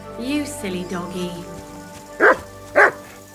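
In the video game Kingdom Come: Deliverance II, a dog gives two short, sharp barks close by, following a stretch of whining, yippy vocalizing.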